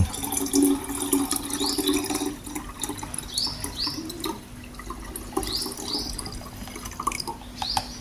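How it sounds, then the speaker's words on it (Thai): Liquid fertilizer is poured into plain water, giving a soft, steady trickle and splash that continues with faint dripping in the background. "เทปุ๋ยน้ำของเราลงไปในน้ำเปล่าผสมอีกที"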